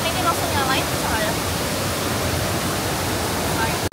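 The Yeh Ho waterfall at Jatiluwih in Bali roars as a loud, steady rush of falling water filling the whole scene, with a voice faintly audible beneath the noise.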